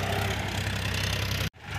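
A JCB excavator digs soil beside a river while a tractor is loaded, its loud engine churning steadily up close. The sound breaks off briefly near the end, then returns.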